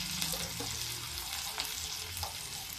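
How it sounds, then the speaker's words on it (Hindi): Curry leaves, cumin seeds and fennel frying in hot ghee over a low flame, a close, steady sizzle with light spluttering and occasional stirring scrapes, no talking. "अब इसमें हम डालेंगे करी पत्ता और थोड़ा जीरा, ये देखिए, और थोड़ी सी सौंफ।"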